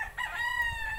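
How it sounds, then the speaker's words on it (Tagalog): Rooster crowing close by on a farm among chickens, one clear sustained call with faint background sounds and no talking. "may mga manok"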